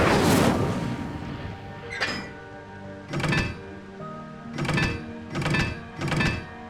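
The Incendio fire spell in Hogwarts Legacy goes off as one heavy whooshing burst, followed by four muffled booming thuds in a rough rhythm, loud and close with no speech.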